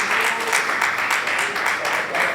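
Audience applause for a moderator taking the podium at a women's forum summit during a bar association week, sustained steady clapping from a crowd filling the room, with a voice faintly over it.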